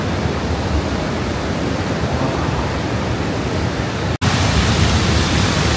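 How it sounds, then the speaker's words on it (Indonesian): Waterfall pouring between cliffs and hills at Menganti beach in Kebumen, a steady, loud, broadband roar with no talk that drops out for a split second near the end and then resumes. "Dan yang paling bagus itu di belakang ada air terjun."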